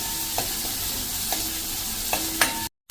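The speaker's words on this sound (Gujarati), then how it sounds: "1-2 મિનિટ જ આપણે આ રીતે તેલમાં કૂક થઈ જાય ને ત્યાં સુધી જ એને કૂક કરશું।" Chopped green garlic leaves cooking in oil in a pan over a medium flame, giving a continuous sizzle under a few light spatula scrapes, close up, with a brief dropout near the end and no voices.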